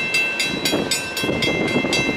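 A Norfolk Southern freight train passes westbound nearby, its wheels beating out a steady, rhythmic clatter of repeated knocks over a continuous rolling rumble, with no voices.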